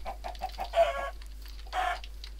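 Chickens cluck in the Minecraft video game, several short repeated clucks followed by two louder squawking bursts, with no talk.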